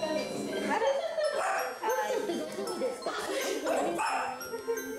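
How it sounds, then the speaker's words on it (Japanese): A Shiba Inu in a veterinary clinic waiting room in Matsuyama gives a string of close, high whimpers and short yips at an uneven rhythm. "待合室には柴犬のニャーちゃんが来ています"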